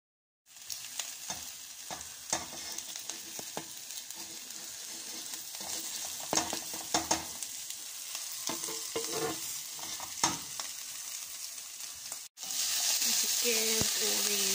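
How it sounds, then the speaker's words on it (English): A frying pan of sliced ingredients for pasta napoletana sizzles steadily while being stirred, with clear scraping and tapping strokes over a constant close hiss and a louder burst of sizzle at the end. "Give all these ingredients a little bit of a stir around to stop them sticking. You can hear they're sizzling very nicely."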